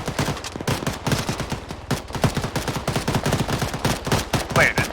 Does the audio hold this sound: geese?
no